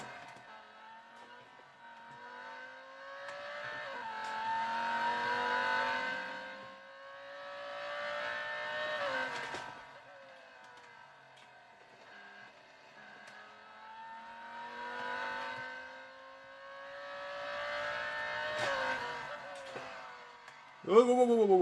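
A Lamborghini Huracan R3 Spec V10 races in Real Racing 3, its engine note rising and falling through repeated upshifts in waves of revving, fairly quiet overall, with a sharp burst near the end.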